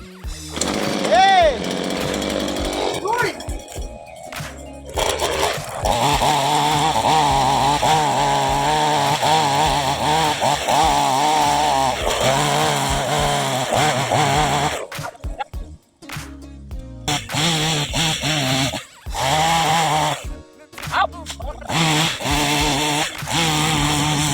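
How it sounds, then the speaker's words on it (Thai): A chainsaw roars loudly and continuously, its engine pitch rising and falling as it bites into the base of a tree trunk, with a short pause partway through. "งวดนี้เอาเลื่อยตัดไม้มาตัดดูสิ"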